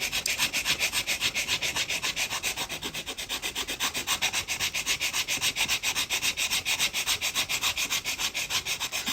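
Sandpaper worked by hand over a small black walnut wood body for a custom SCX24 crawler makes fast, even back-and-forth rasping strokes, close and steady throughout with no talking.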